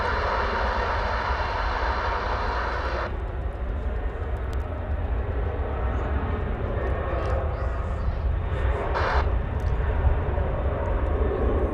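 American Airlines airliner bound for Fresno, California, rumbling at DFW Airport on a sunny Sunday morning, a steady broad engine roar held for the whole stretch, its upper hiss dropping away early on as the jet recedes.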